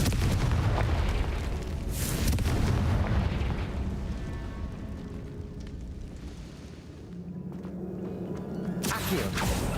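A Confringo blasting spell in Hogwarts Legacy bursts into heavy, rumbling explosions, with a loud boom near the start and more blasts near the end over a continuous low roar.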